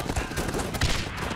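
Rapid gunfire in the video game Guns Up!, aimed at an enemy sniper, a dense rattling burst of overlapping shots over continuous battle noise.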